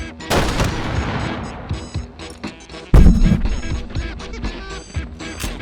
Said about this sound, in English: Much bigger rocket and much more terrifying weapon.